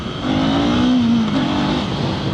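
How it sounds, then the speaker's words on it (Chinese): A Kawasaki Eliminator 500SE motorcycle in first gear gets a quick throttle blip. The close engine note rises and holds briefly in a single rev before easing off. "像现在我退1档，好，你看我灌个油门哦。"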